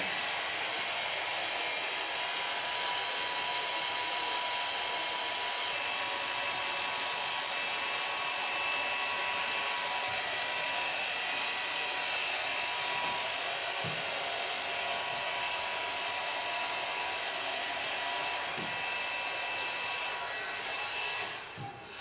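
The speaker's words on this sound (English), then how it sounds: "So far blow drying the hair with the diffuser." A hair dryer fitted with a diffuser blows loudly and steadily on hair, a continuous close whirring rush lasting about twenty seconds before it is switched off at the end.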